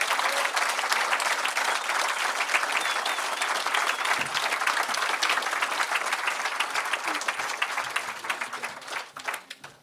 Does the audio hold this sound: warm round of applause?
yes